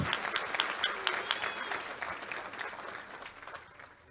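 A church congregation at a bilingual Spanish and Dutch sermon gives a burst of full, close applause that gradually thins and fades toward the end, with no talking over it.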